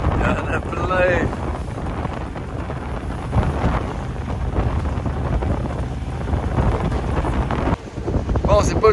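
Strong wind buffets the microphone aboard a 9 m sailboat crossing the Gulf Stream, a loud, gusty rumble with water noise beneath it and voices speaking in French.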